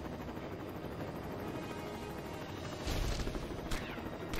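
Police helicopters in the Lego Batman video game, a steady whirring rotor drone filling the whole clip, joined near the end by a couple of sharp bursts like impacts or shots.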